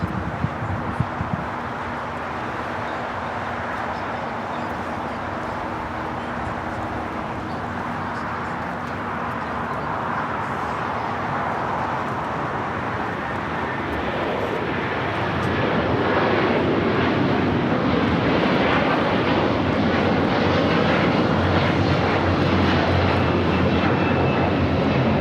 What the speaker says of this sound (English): Latam 603, taking off to Santiago, Chile on the A330-200